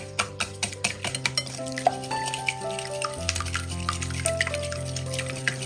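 Eggs and sugar are beaten in a bowl with a spoon or whisk, a quick run of rhythmic clicking taps, close and moderately loud, over soft background music.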